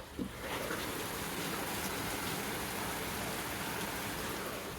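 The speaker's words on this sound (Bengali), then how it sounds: "বৃষ্টিটা দেখাই একবার" Steady, dense rain pours down continuously, a heavy even hiss close by with no voices.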